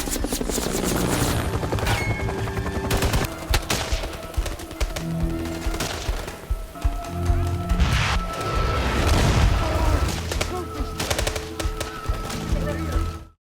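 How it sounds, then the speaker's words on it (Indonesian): Gunfire and explosions fill a Vietnam War film battle, with scattered shots, booms and crashes over a steady roar like a nearby helicopter, layered with music and a voice speaking over the action. "tim 12 bersama prajurit Large mendapat serangan dari tentara komunis"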